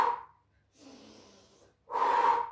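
Breathing during a Pilates exercise: a sharp exhale, a pause, a softer drawn-out breath, then another strong forceful exhale, close and clear with no talking.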